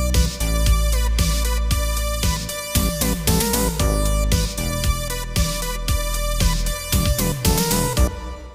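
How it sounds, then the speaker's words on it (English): Roland JD-Xi synthesizer playing the first four bars of a song's chorus, a steady beat with punchy drums, bass and bright synth stabs, loud and continuous. "So the first 4 bars sound like this."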